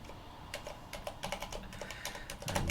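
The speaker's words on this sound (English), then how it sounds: "I'm not used to typing that password." Someone types on a computer keyboard, a run of light quick key clicks with uneven rhythm, close by in a quiet room.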